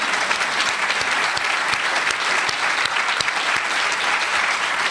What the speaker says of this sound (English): Give a round of applause to Scott,